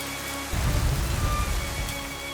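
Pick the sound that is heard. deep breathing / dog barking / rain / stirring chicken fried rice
rain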